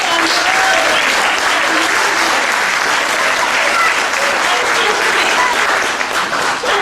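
An audience at a Hindi Writers' Guild Canada festival play staging claps loudly and continuously, a dense, sustained round of applause filling the hall from start to finish.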